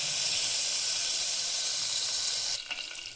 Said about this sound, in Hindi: अब हम सब्जियों के लिए पहले इसमें बटर डाल दे रहे हैं। बटर के साथ ही हम थोड़ा सा तेल डाल देंगे